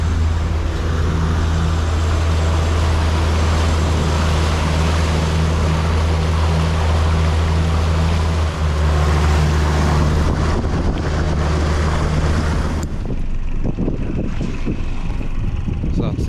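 A Suzuki DF140BG outboard boat engine at about 2,500 RPM makes a steady, loud drone with a low tonal hum, then drops abruptly near the end to a quieter rumble with wind buffeting.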